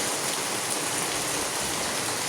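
Steady rain falls for the whole stretch, a dense, even hiss of drops on surfaces with no pauses, fairly close and alone, with no voices.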